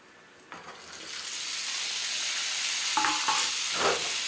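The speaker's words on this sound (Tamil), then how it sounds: "தக்காளி நல்லா வதங்கி வரணும் எண்ணெயில் நல்லா வதங்கி வந்துடணும்" Chopped tomatoes frying in hot oil for tomato chutney: a dense sizzle that swells to a steady, loud hiss, with a few soft scrapes of stirring near the end.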